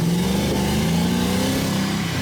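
A BMW E46 fitted with an LS engine accelerates hard, its engine note rising and roaring loudly up close through a continuous wheel-spinning pull.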